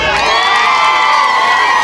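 A large outdoor crowd at a school and education centre opening in Kibra, Nairobi, cheers and whoops loudly and continuously, with high children's shouts rising above the roar throughout.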